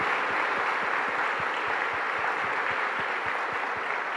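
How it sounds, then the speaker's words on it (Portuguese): A church congregation at a Sunday Mass applauds its mothers, a steady wash of many hands clapping at once, fairly loud and unbroken throughout. "Vamos dar uma salva de palmas para as nossas mamães?"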